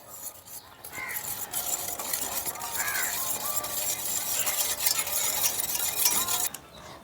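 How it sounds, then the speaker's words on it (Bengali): Ground sugar being stirred in a bowl while making semolina biscuits, a continuous close scraping and rubbing with light clinks of the utensil against the bowl's sides. "এখন গুলিয়ে নেব।"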